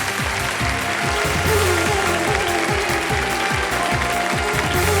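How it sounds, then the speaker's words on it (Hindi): Studio audience applauding contestants at the close of a KBC quiz show episode, a dense, steady wash of clapping mixed with repeated low mechanical ratcheting sweeps, loud and continuous throughout. "एक बार फिर हमारे जितने भी कंटेस्टेंट हैं उनके लिए तालियां बजा दें।"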